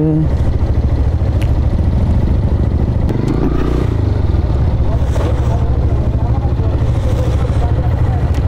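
A motorcycle engine idles and rumbles steadily in a toll queue at the Padma Bridge in Bangladesh, loud and close throughout, with clattering and other traffic noise mixed in and voices partly audible.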